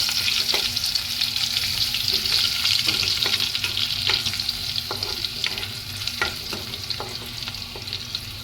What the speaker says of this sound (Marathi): लसूण टाकून घेतली आहे याला व्यवस्थित परतून घ्यायचं लसूण आपली लाल होईपर्यंत परतून घ्यायची